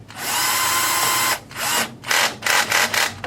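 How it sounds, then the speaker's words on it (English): Power drill set to a light clutch driving screws during assembly of an Axial Yeti XL RC car: a steady loud whir for over a second, then several shorter close bursts in quick succession, with no talk. "Have my clutch set real light on the drill."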